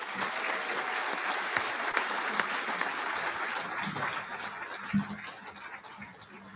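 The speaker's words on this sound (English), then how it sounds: "let's give one more round of applause to our awardees" Audience applause at a Marine Corps awards dinner, steady dense clapping from a large crowd throughout, with a few louder individual claps standing out near the end.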